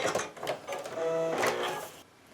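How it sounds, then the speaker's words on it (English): A sewing machine runs in a steady whirring burst, its feed dogs drawing fabric along a bias seam for a small quilt block, close and fairly loud with no talking. "I want those feed dogs to go ahead and bring that through the sewing machine"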